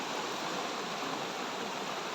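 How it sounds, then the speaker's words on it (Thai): Rushing water from a waterfall and flowing stream in a humid rainforest, a dense, steady broadband roar that stays constant and close throughout with no voices. "นี่เรามีน้ำตกด้วย"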